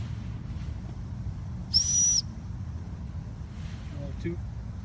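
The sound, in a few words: whistle being blown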